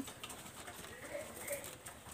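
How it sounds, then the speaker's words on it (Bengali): Faint, low cooing from a pair of red-eyed female pigeons, a couple of brief soft calls over quiet ambient hiss. "দেখেন দুইটা ফিমেল কবুতর আছে।"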